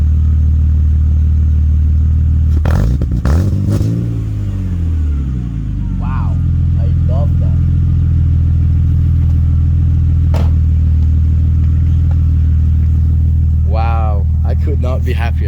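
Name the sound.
BMW E36 engine running with new exhaust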